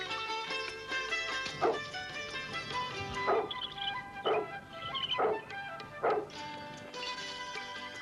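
Dogs bark at a large mansion, a series of about five sharp barks spaced roughly a second apart over a steady musical background.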